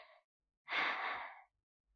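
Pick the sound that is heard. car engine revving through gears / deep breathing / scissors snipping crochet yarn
deep breathing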